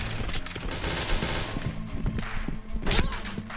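Rapid gunfire in an online shooter game, dense bursts of shots and automatic fire running continuously with sharp cracks, loud and close, no talk.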